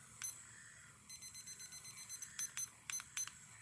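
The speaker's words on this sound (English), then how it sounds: "I want to start my timer" A digital timer starts with a quick, faint run of short, evenly spaced electronic beeps, followed by a few louder separate beeps, with no talking.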